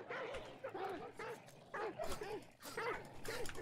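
Video game dogs bark and yip in repeated short bursts, several dogs close together with whimpering cries in between, heard under people talking.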